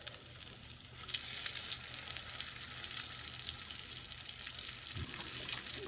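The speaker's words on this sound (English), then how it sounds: "We're just going to put it right in the skillet." Seasoned corn sizzles steadily in a hot skillet for a Southern pork chop dinner, a continuous bright frying hiss that swells slightly after the first second, with no talking.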